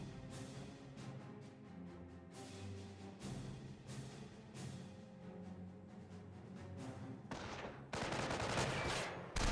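Bursts of MG42 machine gun fire from the World War II strategy game Company of Heroes rattle amid ongoing battle noise, moderately loud, ending in a denser, louder barrage near the end.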